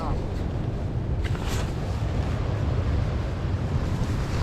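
Strong wind at a campsite during a tent setup: constant loud gusting rumble buffets the microphone throughout, with a brief sharper flutter near the middle and no clear speech.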